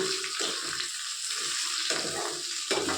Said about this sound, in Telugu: చూడండి, ఇలా కొంచెం బాగా వేపుకోవాలి.